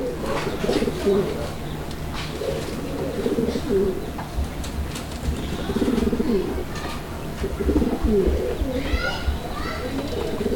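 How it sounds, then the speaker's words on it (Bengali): Large Gopalganj pigeons, a yellow pair, coo in low repeated rolling phrases, close by and continuous, with faint chirps and distant background noise mixed in. "এই মুহূর্তে আমরা দেখাচ্ছি আপনাদেরকে গোপালগঞ্জের বড় পায়রার আরও একটা জোড়া"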